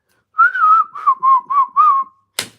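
A person whistles a short tune, five clear, tuneful phrases in quick succession, close and alone, followed by a brief sharp noise right at the end.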